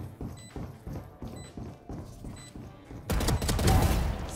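Rapid bursts of video-game gunfire crackle in quick succession, followed by a louder, denser barrage near the end.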